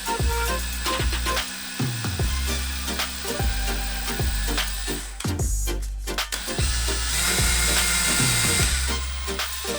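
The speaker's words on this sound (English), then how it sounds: "So we're going to drill a hole." Power drill boring a hole through carved leather for a bracelet, whining in repeated bursts that spin up and wind down roughly every second, close and loud with a brief pause midway.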